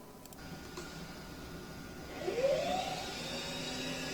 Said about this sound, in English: You can hear that pump come on.